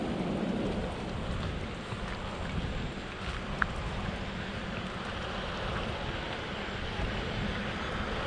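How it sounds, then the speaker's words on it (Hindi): Steady rain falls around Khireshwar village on a jungle trek route near Pune, a broad continuous hiss of drops with low wind rumble, close and even throughout, with no voices. "बारिश भी आ रही"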